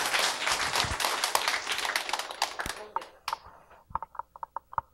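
An audience claps to welcome a speaker coming forward, starting as full, loud applause that thins out and dies away into a few scattered, separate claps at the end.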